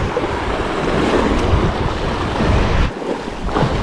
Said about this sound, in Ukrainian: Отак хвиля надходить і разом з хвилею можна і рибу взяти.